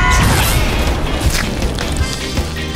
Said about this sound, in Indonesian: Ini akan meledak.